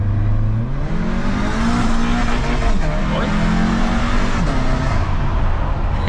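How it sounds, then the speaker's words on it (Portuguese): A modified 500 hp VW Passat engine revs hard and loud up close, its tone climbing and stepping as it bounces off the rev limiter in a sustained, roaring burst lasting several seconds. "dependendo do jeito que você pisa, o giro sobe tão rápido que ele corta giro"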